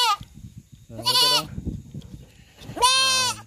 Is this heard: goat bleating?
yes